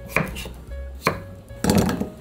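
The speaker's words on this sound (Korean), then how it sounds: "이렇게 잘게 깍둑썰기로 뚜벅뚜벅 썰어주세요." A knife chops peeled potatoes into small cubes on a cutting board, with several crisp, close thunks spaced unevenly, for a mayonnaise-free potato salad.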